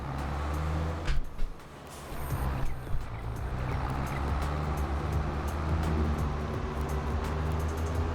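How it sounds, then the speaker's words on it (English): Vehicle wheels spinning in a farming game, a steady engine drone with a grinding, churning rumble that holds for several seconds, a few brief knocks early on, and no voices. "There's not much we could do about the wheels spinning at the minute"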